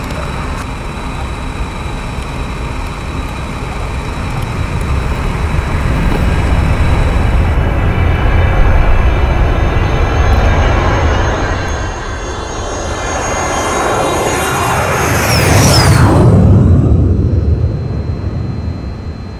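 A fixed-wing airplane taking off after tower clearance, its engine loud and close throughout, building into a sustained roar with a rising whine as it accelerates and passes, then easing off slightly at the end.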